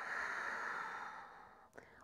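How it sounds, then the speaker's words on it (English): A soft, steady exhalation of breath through the nose, airy and close, trails off near the end with a faint shift in tone. "Breathing out through the nose."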